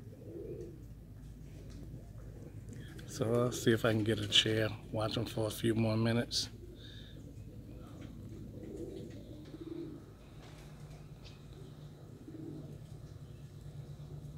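Young pigeons coo outdoors in a short burst of soft, repeated throaty calls nearby, while someone talks quietly around them.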